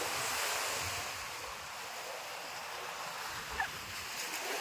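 Waves and wind on Kovalam beach at night, a soft, continuous roar of surf with gusting wind rumbling across the microphone, fairly faint and unbroken.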